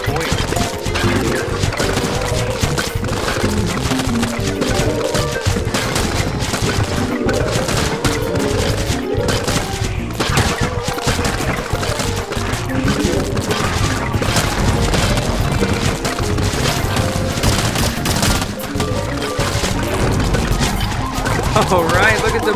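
Dense, nonstop barrage of explosions, rapid impacts and crashing hits from a bombardment attack in the Plants vs. Zombies 2: It's About Time video game, loud and continuous over layered game music.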